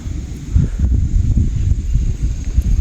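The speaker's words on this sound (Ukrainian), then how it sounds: "Ух, сьогодні вітряно, хмарно." Gusty wind buffets the microphone with low rumbling bursts, a steady faint hiss underneath.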